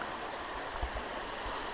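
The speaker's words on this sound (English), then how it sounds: "Water's flowing great today again." Creek water at East Cadron Creek flows steadily with a broadband rushing wash and a few soft low bumps, close by and continuous, with no voices.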